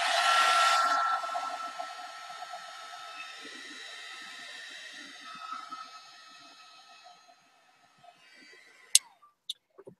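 A heat tool drying a watercolor art journal page blasts loudly for about a second, then its whine fades and winds down. A few sharp clicks sound in the quiet at the end.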